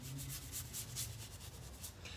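Brush spreading Pureco hemp finishing oil over furniture edges, a quiet steady scratchy rubbing with pulsing strokes, close and faint, no talk.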